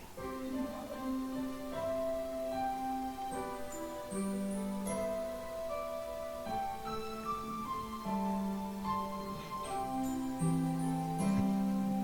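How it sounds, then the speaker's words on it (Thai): An oboe plays a reedy, gentle melody over soft accompaniment, quiet and legato throughout. "เราฟังเสียงปีโอโบ ครับ"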